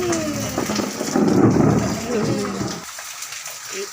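A thunderstorm with heavy rain, with a deep rumble of thunder rolling over steady rainfall while someone talks nearby.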